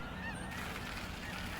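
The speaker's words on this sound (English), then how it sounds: "Snow geese are such an intriguing story." Snow geese honk on the Fraser River Delta in mid-October, a dense chorus of overlapping calls from a large flock that stays steady and fairly faint throughout, like a distant crowd of birds.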